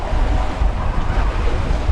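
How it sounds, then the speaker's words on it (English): Wind gusting over open sea aboard a MacGregor 26 sailboat in the Florida Keys, a loud, close rushing roar buffeting the microphone, mixed with wave wash, continuous throughout. "here comes a gust"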